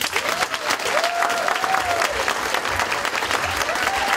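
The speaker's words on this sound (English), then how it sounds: "Give them a round of applause." Hall audience at a youth summit claps in a steady, full round of applause with a couple of whistles and faint voices mixed in, lasting about four seconds.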